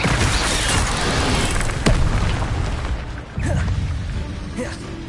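Incendio fire spell cast in the video game Hogwarts Legacy, a loud, dense roaring burst of flame with a sharp crack near the middle, sustained throughout with a brief dip and a renewed surge toward the end.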